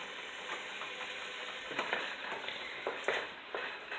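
Garlic and onions frying in a pan for a beer beef stew give a steady close sizzle, with stirring scrapes and small crackling bursts rising and falling throughout.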